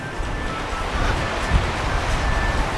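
Rough sea surf roars against a steep cliff coast, a dense continuous rumble and wash mixed with gusty wind buffeting the microphone, loud and close.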